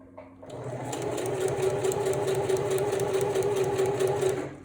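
A sewing machine runs steadily, stitching swim elastic close to the fabric edge, a fast even mechanical whir at close range that starts and stops cleanly.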